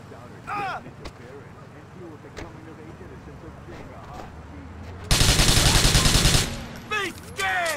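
Gunfire in the video game GTA IV bursts out as a loud, rapid volley of shots lasting over a second, set against traffic and street ambience with a voice speaking before and after.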